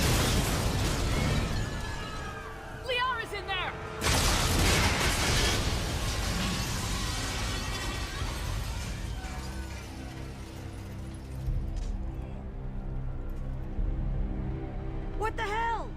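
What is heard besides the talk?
explosion in the Mass Effect 2 video game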